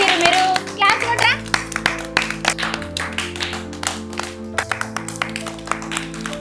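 Children clap together in a pre-primary classroom, a run of sharp, closely spaced hand claps that start strong and thin out over several seconds, with a teacher's voice speaking over them.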